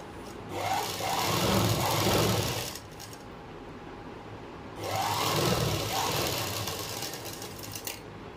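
A sewing machine stitches a pant pocket in two steady runs, a whirring mechanical hum that rises, holds for about two seconds, pauses briefly, then runs again, close and clear with no talk.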